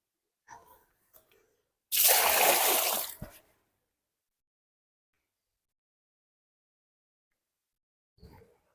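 Mop water from floor cleaning is poured into an outdoor drain in one loud, close gush lasting about a second and a half, with a few faint knocks before it and quiet afterward.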